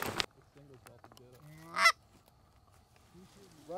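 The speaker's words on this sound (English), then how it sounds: "we got some geese coming up over here" Wild geese honk overhead in the open air above an early-season cut cornfield, several short nasal calls in a loose series with one louder honk, after a sharp shot-like burst at the start.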